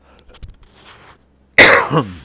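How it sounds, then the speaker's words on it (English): A single brief, loud cough close to the microphone, sharp onset with a short trailing rasp, following a stretch of faint quiet noise. "Cough briefly."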